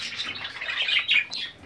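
Pigeons and exotic birds kept at a private aviary chirp and tweet continuously in a busy, overlapping chorus, fairly close, with no voices.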